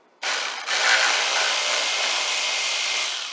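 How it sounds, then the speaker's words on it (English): An electric ratchet spins bolts out of the dash of a 1972 Cadillac Eldorado, starting abruptly and running as a steady high whirring buzz for about three seconds at close range. "I got the electric ratchet"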